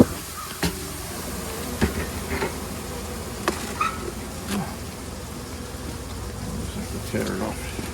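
Honey bees swarm and buzz around an open hive in a continuous low drone close by, with people talking intermittently over it and occasional knocks and rustles from handling the hive.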